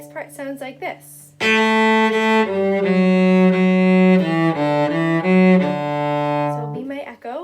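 A cello bows the next phrase of the folk tune Go Tell Aunt Rhody, a steady sequence of sustained, clearly separated notes played alone and close up, with short spoken bits just before and after the phrase.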